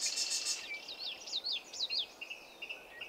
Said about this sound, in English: the swell of birdsong that surrounds me now reflects that